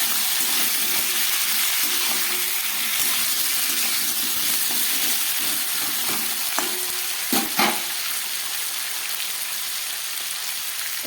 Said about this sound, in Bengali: সব তেলের মধ্যে দিয়ে রাঁধুনি ফোড়ন দিয়ে একটু ভাজা করে নেব